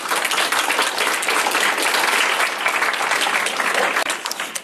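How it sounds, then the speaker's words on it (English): An audience at a teen safety and self-defense workshop applauds a sheriff's office speaker, a dense, steady round of clapping close by that holds for several seconds before tapering. "Please give him a round of applause."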